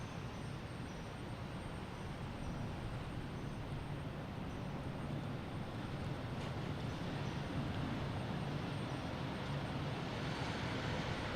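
Delta airliner at Boston Logan Airport, a steady distant engine roar that swells slightly toward the end, heard alone without talk.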